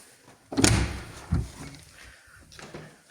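Interior door opening or closing with a loud bang, then a softer second thump about a second later and a faint knock near the end, close by in a quiet room.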